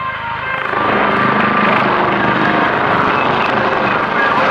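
Royal Navy Lynx helicopters roar loudly and continuously overhead at an air display, a dense rotor and turbine drone that swells in the first second and then holds steady.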